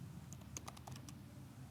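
Soft, quick keystrokes on a computer keyboard, a short burst of a few taps heard faintly over a quiet room hum.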